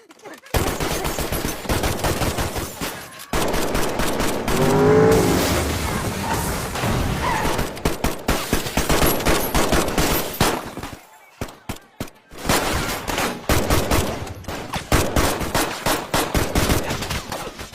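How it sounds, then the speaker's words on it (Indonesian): Rapid automatic gunfire and single shots crackle through a shootout in the 2025 film Sovereign, loud and dense bursts with brief pauses, mixed with film music and effects. "Seketika, Jerry pun langsung menembaki mereka semua."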